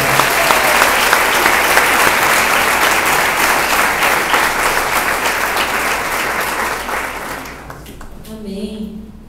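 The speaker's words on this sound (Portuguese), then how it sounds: "aplauda o Senhor pela vida dela" A church congregation claps together in sustained, dense applause that holds steady for several seconds, then tapers off abruptly near the end as a voice begins to speak.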